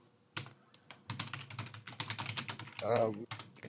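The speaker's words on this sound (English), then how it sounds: "I can hear the sound of typing." Rapid, uneven clatter of fingers typing on a computer keyboard, close and fairly quiet, the keystrokes arriving in bursts with short pauses between them.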